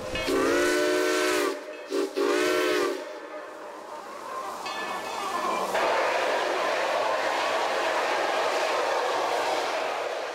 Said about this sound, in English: When he blows his whistle, he loves his whistle. And he will blow it.